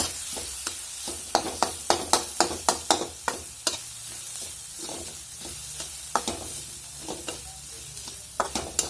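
Chili garlic paste sizzles in two spoons of hot oil for an okra dish while a spoon scrapes the pan in quick, regular strokes, the clacking stir rhythm running over a constant frying hiss, close and alone.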